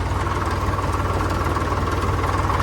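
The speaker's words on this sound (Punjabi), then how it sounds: "ਆਪਾਂ ਕੱਢ ਲਿਆ ਟਰੈਕਟਰ ਬਾਹਰ ਲੈ ਕੇ ਚੱਲਦੇ ਆ" A tractor engine idles steadily nearby on a farm, a low rhythmic chugging with a constant vibrating rumble and no voices.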